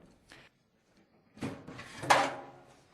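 Metal door of a recessed automated touchless towel dispenser being knocked out with a drift pin, vice grips and a hammer; a few sharp close clunks and rattling knocks with pauses between.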